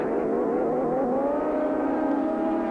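A 500 Suzuki racing motorcycle accelerates hard up the back straight of a dirt-edged circuit, its engine note climbing steadily in a continuous loud wail close by, with no voices.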